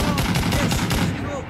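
A tank opens fire in the game Operator, a dense burst of rapid loud booming shots packed close together, continuous for a moment before tailing off.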